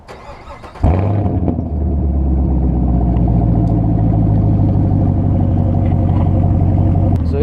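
A Chevrolet Camaro SS with its mufflers cut off fires up abruptly after a quiet moment, then holds a loud, deep, throaty rumble close by for several seconds.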